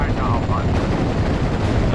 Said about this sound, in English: Ammo explosion and boom goes to Churchill.